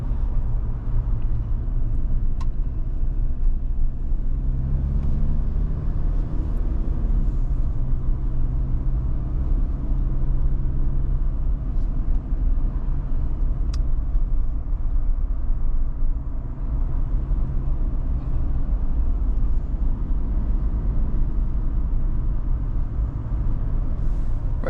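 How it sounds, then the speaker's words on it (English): Steady low engine rumble from a 2024 Jeep Wrangler Willys 4xe plug-in hybrid driving on the road, heard from inside the cabin as a continuous droning hum with road noise, no distinct turbo whistle standing out. "I do like hearing the sound of an engine, especially the turbo."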